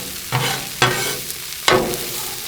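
Sausages and onions cook on a Blackstone griddle, a steady sizzle broken by three sharp scraping bursts as a spatula shifts food across the flat top.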